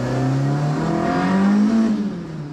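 A Ford Escort Mk2 with a Zetec engine drives along close by, its engine note droning and rising steadily under load with no talk over it.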